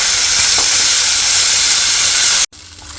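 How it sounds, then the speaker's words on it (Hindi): Grated fresh turmeric frying in ghee over high heat hisses loudly and steadily up close, a dense bright sizzle that cuts off abruptly near the end, leaving a quiet background. "इसको थोड़ा सा घी में भूनेंगे हल्का सा"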